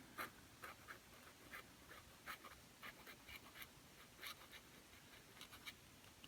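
Small steel fountain pen nib, a Diplomat Magnum Soft Touch, writing with the nib upside down on paper, giving faint, slightly scratchy strokes in short irregular bursts close up, with no voices.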